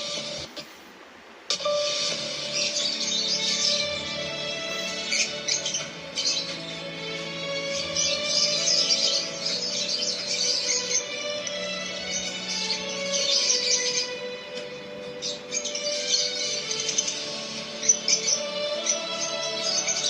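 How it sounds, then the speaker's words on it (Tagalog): Pet birds, including red factor birds, chirp and tweet in a busy, continuous chorus of bright, overlapping calls over a soft steady tonal backdrop, with no talking. "Ganda ng mga ibon."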